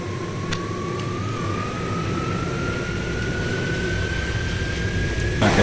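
Inside the cabin of a Lufthansa Boeing 737 Classic in X-Plane 11, flaps extended on approach: a steady, loud jet-engine roar fills the space, with a thin whine slowly climbing in pitch throughout.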